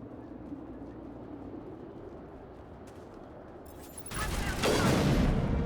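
Gunfire from the video game Mass Effect, a steady rumble of battle that erupts into a louder, denser burst of shots near the end.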